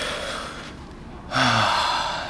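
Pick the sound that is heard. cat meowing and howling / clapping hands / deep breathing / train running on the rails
deep breathing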